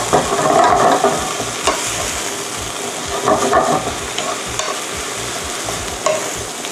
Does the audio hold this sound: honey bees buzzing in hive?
no